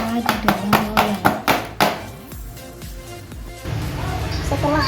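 A baking pan filled with cassava batter is rapped against a hard surface about seven times in quick, even succession. Softer kitchen clatter and a low background rumble follow.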